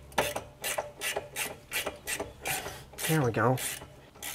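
A ratchet wrench tightens a shock absorber bolt on a VW Beetle, giving a steady series of short rasping clicks about twice per second. Someone speaks briefly near the end.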